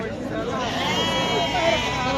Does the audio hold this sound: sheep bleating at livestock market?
yes